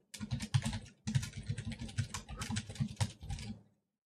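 Rapid, steady typing on a computer keyboard, close and clear with no voices, pausing briefly about a second in before resuming and then stopping.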